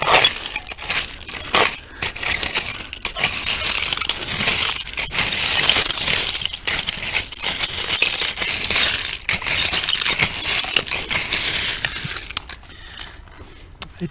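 Glass bottles clink and rattle continuously while digging through an old Pepsi bottle dump in Kinston, a dense near jangle of shards and bottles that fades out at the end.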